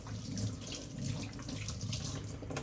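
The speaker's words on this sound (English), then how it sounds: "put your water a little more toward the colder side now" Tap water runs steadily into a sink while a gold Rolex watch is rinsed under it, a continuous close splashing hiss with no talk over it.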